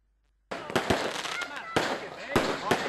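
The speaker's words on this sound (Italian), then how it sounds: "Fuochi d'artificio per la vittoria del centrodestra a Martellago dopo 24 anni." Fireworks burst in Martellago celebrating a centre-right municipal election victory, with a dense, continuous crackle and several sharp loud bangs starting abruptly after a moment of silence.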